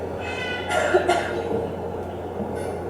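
A crow gives a couple of short, raspy cough-like bursts imitating a person coughing, over a steady low background hum.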